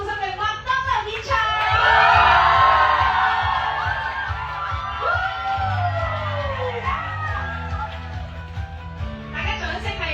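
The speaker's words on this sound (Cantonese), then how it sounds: "你哋尖叫聲係可以繼續。" A crowd of fans at a McDonald's promotional event in Admiralty, Hong Kong, screams and cheers loudly, with high-pitched shrieks and whoops swelling and lingering for several seconds over a steady low rumble of the venue.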